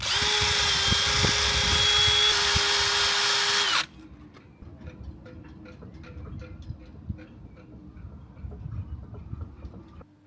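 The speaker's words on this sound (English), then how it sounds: "what I'm going to use is a bit of a wire wheel on the drill, see if we can clean it up" Wire wheel spun by a power drill scrubs boat propeller shafts, a loud steady whining grind for nearly four seconds that cuts off abruptly, leaving quieter clattering workshop noise.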